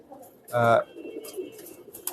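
Many pigeons kept in a dark coop give a short, loud throaty coo, followed by softer scattered rustling and faint calls nearby.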